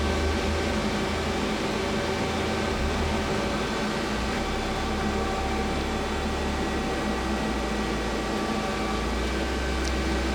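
Y-axis motion on a Feeler HT-30Y CNC turning center, new in 2011, produces a constant low mechanical drone with faint whining tones, steady and close for the whole stretch with no pauses.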